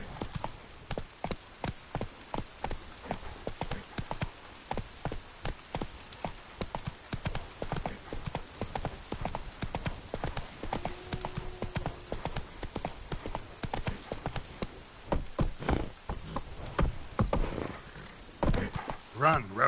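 Roach the horse galloping in The Witcher 3, a dense, fast run of close hoofbeats throughout, with an occasional snort and bits of speech over the top.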